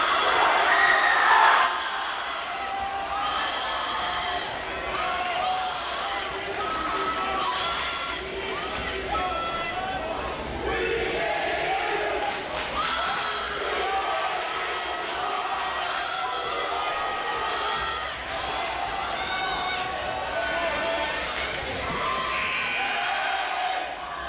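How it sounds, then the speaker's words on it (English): Rival student sections at a high school boys varsity basketball game against Tea Area trade chants and cheers in a crowd war. Shouting and cheering voices fill the gym continuously, with sneaker squeaks and rhythmic chant bursts. "We got a little crowd war erupting here between the T Titans"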